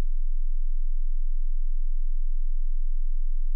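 A pure 20 Hz sine test tone plays as a constant, very deep, unbroken hum with steady level and nothing else around it.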